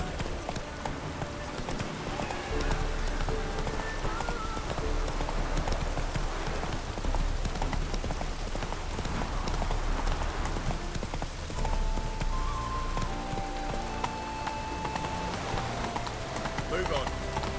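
A horse gallops in The Witcher 3, with rapid hoofbeats running continuously under game music and ambient sound, and a voice speaks briefly over it.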